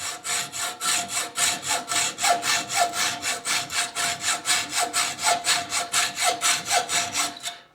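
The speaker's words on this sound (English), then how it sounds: "they know they can do this shit with just a simple hacksaw" A hand hacksaw cuts through material on a worktable with brisk, regular back-and-forth strokes, roughly three per second, close and loud with no talking.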